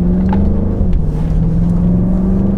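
A car driving along the road toward a park, a loud, steady engine drone heard from inside the cabin with a low, even hum throughout.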